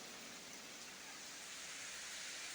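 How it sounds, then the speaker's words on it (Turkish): Steady soft hiss of light rain falling, an even wash of fine droplets with no voices. "Yağmur başladı. Yağsın Allah'ım yağdır."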